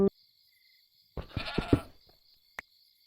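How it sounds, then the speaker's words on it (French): A goat bleats in the horror video game From the Fog: one wavering, nasal call lasting under a second, close and clear against a quiet background with a faint steady hum, preceded and followed by brief clicks. "C'est une chèvre, ça, on est d'accord?"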